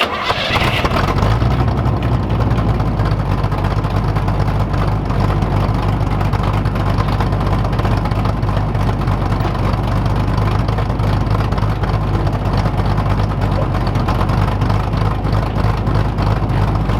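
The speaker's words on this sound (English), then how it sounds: "So I'll fire up the car" A Chevrolet Camaro IROC-Z with a swapped engine, a small cam and a 5-speed starts up and settles into a loud, steady, close idle that runs on continuously with a deep rumble.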